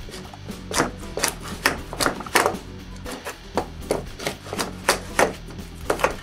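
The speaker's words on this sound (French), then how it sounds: "Puis je nettoie avec une guimbarde." A hand router plane, called a guimbarde, cleans the bottom of stopped dadoes cut in wood, giving repeated sharp scraping strokes in an irregular rhythm, close and fairly loud, with no talking.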